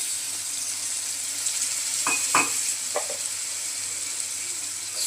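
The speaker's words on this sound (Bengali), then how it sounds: "এখন দিয়ে দেবো অল্প পরিমাণ জল" A small amount of water goes into chili and coriander powder frying in a pan for chicken khichdi, bringing a steady loud sizzle with a few brief bursts of spattering and stirring scrapes partway through.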